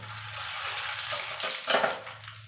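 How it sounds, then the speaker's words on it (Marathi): A spoonful of mustard seeds hits hot oil in a pan for moong dal khichdi tempering, a close sizzle with spluttering crackles that swell briefly before settling, and no voices. "इथे मी एक चमच मोहरी टाकत आहे"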